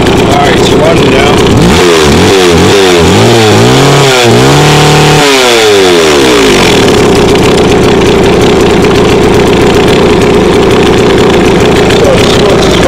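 A McCulloch Pro Mac 610 chainsaw, its carburetor just rebuilt, runs loud and close, revving up and down in rising and falling sweeps over the first several seconds before settling into a steady, rough idle with faint background talk.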